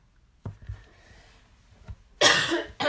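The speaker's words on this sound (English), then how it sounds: "Sorry guys, I had to cough." A single sharp cough bursts out near the end, loud and close, after a few soft handling noises and quiet thumps.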